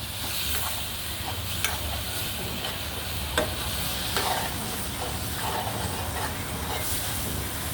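Squid stir-fried in a hot wok with celery, spring onion and red chilli, a steady close sizzle and hiss broken by scraping stirs throughout.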